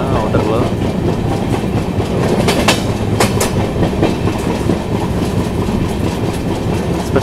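Train 18463 Bhubaneswar–KSR Bengaluru Prasanthi Express running on the main line, a steady loud rumble of passenger coaches with light clickety-clack and a few sharp metallic clicks partway through, no voices.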